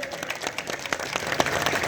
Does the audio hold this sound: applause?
yes